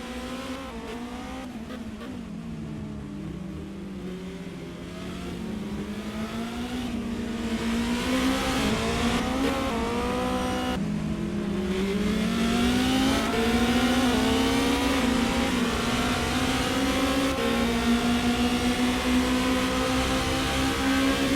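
Race car engines in a racing game during warm-up, a steady mechanical drone whose pitch sweeps up and down as cars rev and accelerate, growing louder and fuller over time with several engines overlapping.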